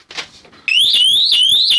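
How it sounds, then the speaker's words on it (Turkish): After a brief soft clunk as a door opens, a loud electronic door alarm from a budget remote-controlled alarm system starts up, a shrill warbling siren repeating its rising tone close by. "Alarm bu şekilde ötmeye başlıyor."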